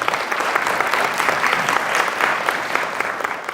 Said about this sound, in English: I would just like to give everybody a round of applause and welcome guests.